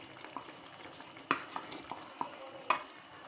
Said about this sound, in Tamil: இப்போ நம்ம ஏற்கனவே ஃப்ரை பண்ணி வச்சுருக்க பன்னீரெல்லாம் இதோட சேர்த்துடலாம்.